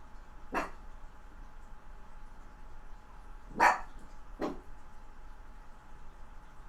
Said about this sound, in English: there's a dog upstairs that keeps on barking and barking and barking.